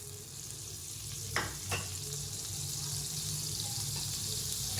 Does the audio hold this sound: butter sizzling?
yes